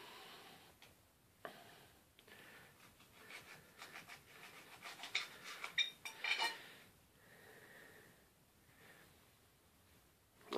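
A knife cuts into a Bishop's Cap chilli pepper (Capsicum baccatum): quiet scraping and soft crunching, then a brief cluster of small clicks and taps partway through, all faint and close.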